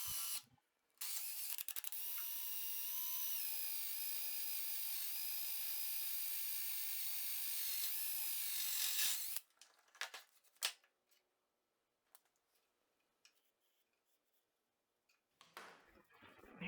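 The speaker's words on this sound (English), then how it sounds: "here I'm using the power drill to drill the pinholes" A power drill whines steadily at high pitch for about eight seconds drilling pinholes in a saw blade for a knife, then stops, followed by a few brief clicks and handling noises.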